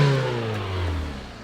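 A Fiat Punto fitted with a cheap aftermarket exhaust revs loudly at full throttle, a raspy droning engine note that holds steady and then slowly falls away, close up with no talk.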